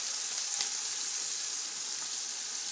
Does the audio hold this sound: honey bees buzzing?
no